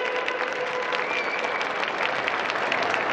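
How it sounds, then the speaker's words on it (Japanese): A large audience at an Okinawan Eisa festival performance inside Tokyo Dome claps in dense, sustained applause that fills the whole moment without a break. "もう一度大きな拍手をお送りください。"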